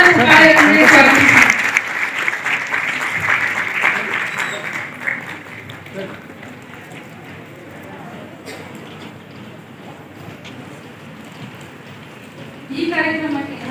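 An audience at a legal awareness event claps loudly to welcome a guest, with dense applause at the start that fades into scattered claps and background murmur, then a short burst near the end.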